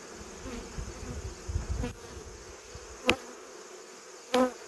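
Honeybees buzzing softly and steadily around the upper entrance of a hive in the open, a low continuous hum with a couple of brief louder passes close by.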